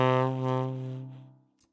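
A minor pentatonic scale built from Dorian degrees, heard as a single sustained pitched tone that swells and fades out over about a second and a half, alone and fairly quiet.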